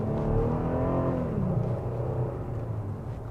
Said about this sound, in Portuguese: É só a gente pisar um pouquinho, a gente já sente a força do motor.